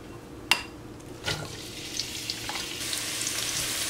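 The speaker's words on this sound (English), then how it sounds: "We sauteed these onions for about 3 minutes." Onions sautéing in about five tablespoons of olive oil: a sharp clatter as they hit the pan, then a steady, building sizzle with occasional utensil knocks, close and moderately loud.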